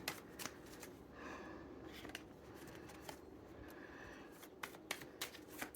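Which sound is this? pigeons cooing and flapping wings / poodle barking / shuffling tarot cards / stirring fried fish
shuffling tarot cards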